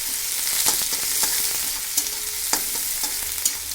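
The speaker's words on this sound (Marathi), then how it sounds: "छान असा कांदा परतून घ्यायचा" Onion sautéing in a pan for a corn upma dish, a steady close sizzle of frying with repeated scraping stirs and sharp utensil taps at irregular intervals, no voices.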